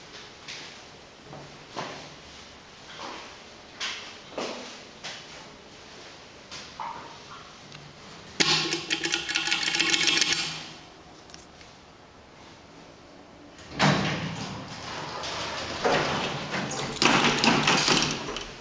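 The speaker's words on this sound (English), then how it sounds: "It's a vintage Dover elevator." A vintage Dover elevator running, with repeated mechanical thumps and clunks of moving parts followed by two longer stretches of loud rushing, rumbling noise as the car or doors travel, fairly close.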